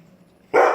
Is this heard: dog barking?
yes